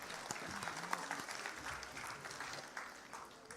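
Audience applause at a classical dance Arangetram in Botswana, greeting the gurus and their students: a steady, dense wash of clapping from a hall crowd that holds for a few seconds at moderate level.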